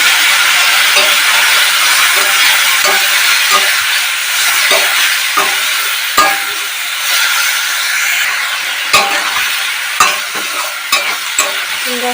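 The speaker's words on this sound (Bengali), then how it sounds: "এখানে আমি সামান্য একটু জল অ্যাড করবো মশলাটা কষানোর জন্য।" Spice paste for a soybean and potato curry sizzles loudly in a pan with a splash of water, steam hissing continuously while a spoon scrapes and knocks against the pan at irregular moments, close and without talk.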